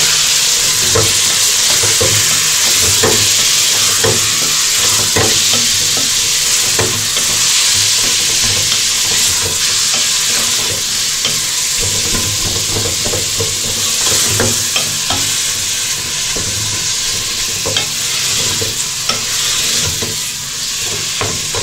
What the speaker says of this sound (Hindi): अब इसमें मैं ये 2 चम्मच लहसुन डालूंगी। और साथ ही ये कीमा डाल दूँगी।